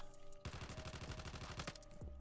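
Call of Duty Mobile gun firing at a target at mid range: a quick, even burst of automatic shots. The rattle is steady and fairly quiet, and it cuts off after about a second and a half.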